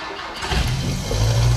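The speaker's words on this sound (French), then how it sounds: "le bruit caractéristique de la 4L, la première, on la tire et on avance." A Renault 4L's engine cranks and catches, then settles into a steady, close, low idle that grows slightly louder over about a second and a half.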